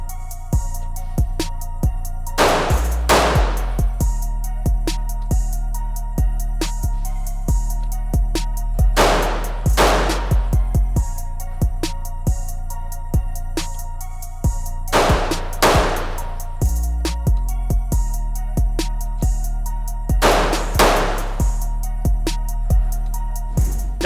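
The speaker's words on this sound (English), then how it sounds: "shoot 1 on dot number 3, and transition to dot number 4 and shoot 1" Pistol shots fired in a dot torture accuracy drill, a rapid string of loud, sharp cracks with echo, broken by a few brief pauses between groups of shots.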